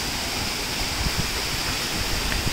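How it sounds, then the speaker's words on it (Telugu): A forest waterfall at Venkatagiri pours straight down into a rock pool, making a loud, continuous roar of rushing water throughout. "నేరుగా వచ్చి గుండల్లో పడుతున్నాయి నీళ్లు"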